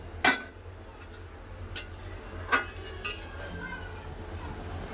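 A metal lid comes off a pot of boiling dal with a few sharp clinks and knocks spaced across a few seconds, close by over a quiet kitchen background.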